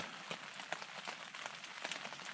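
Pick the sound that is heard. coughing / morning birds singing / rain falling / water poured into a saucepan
rain falling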